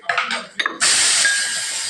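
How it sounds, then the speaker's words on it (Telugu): A pressure cooker cooking mutton lets off a steady, loud steam whistle hiss after a few short sputtering puffs of escaping steam. "మటన్కి విజిల్స్ వస్తున్నాయి."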